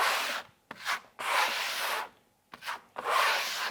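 A trowel pressed hard on the microcement bonding bridge over bathroom tiles gives a loud rasping scrape in repeated strokes, each a second or so long, separated by short pauses.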